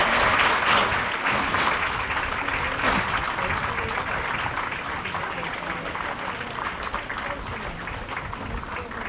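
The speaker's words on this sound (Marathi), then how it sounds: "ताई स्टेजवर येईपर्यंत टाळ्या नाही थांबल्या पाहिजेत" Sustained audience applause at a women's guidance rally in Airoli, steady and dense throughout, slowly easing off toward the end with a crowd murmur underneath.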